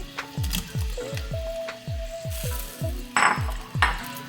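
Shrimp added back into bubbling scampi sauce in a pan, sizzling loudly and close with a rapid series of popping bursts, a steady tone running underneath and a couple of louder splashy hisses near the end.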